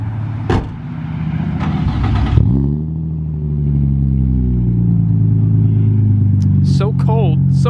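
Cold start of a Nissan 350Z: a short cranking clatter, then the engine catches with a rising rev that settles into a steady, close idle hum, with brief voices over it.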